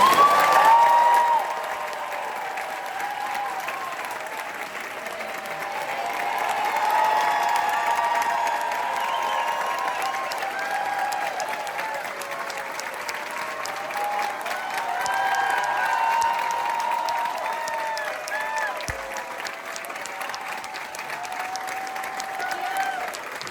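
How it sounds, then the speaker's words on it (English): A theatre audience at a final Broadway curtain call applauds the crew, sustained crowd clapping with some cheering that swells and eases over about twenty seconds while a faint voice carries over it. "Will you please applaud for that?"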